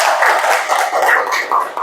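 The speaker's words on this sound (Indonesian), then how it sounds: "Bagus, tepuk tangan untuk kelompok 2." A classroom of students gives a short burst of applause for a group, quick uneven clapping that stays close and fairly loud for about two seconds.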